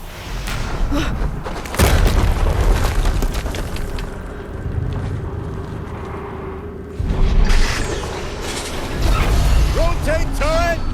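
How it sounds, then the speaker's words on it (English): Explosions in Horizon Zero Dawn: heavy booming blasts, one near two seconds and another near seven, each trailing into a rumbling roar, set against mechanical game noise and chirping effects, with a voice talking over parts of it. "Another explosion."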